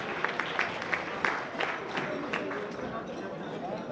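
Scattered applause and a few distinct claps from a crowd at a charity fundraiser auction, mixed with murmuring chatter and voices in a busy room.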